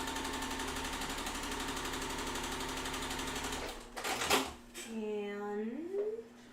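A sewing machine runs steadily for several seconds as quilt pieces are chain pieced one after another, then stops, followed by a few handling clatters and someone speaking close by.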